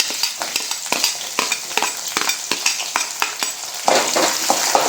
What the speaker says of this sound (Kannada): ಚೆನ್ನಾಗಿ ಈರುಳ್ಳಿ ಫ್ರೈ ಆಗಬೇಕು